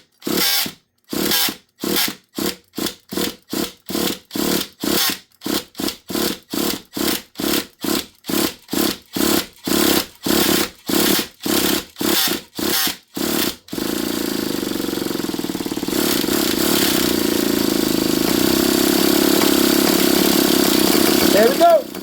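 A Losi LST XXL 2 nitro RC truck being cranked for its first start: a long series of loud, evenly spaced pull-start bursts, then the engine catches and settles into a continuous raspy buzzing idle.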